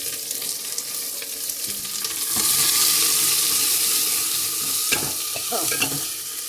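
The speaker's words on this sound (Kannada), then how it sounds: "ಈರುಳ್ಳಿ ಸ್ವಲ್ಪ ಚೆನ್ನಾಗಿ ಫ್ರೈ ಆಗಲಿ" Dry red chillies and onion frying in a pan, a continuous close sizzle that swells after a couple of seconds, with a few clattering stirs near the end and no voices.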